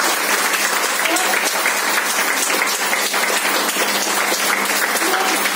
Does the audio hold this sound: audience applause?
yes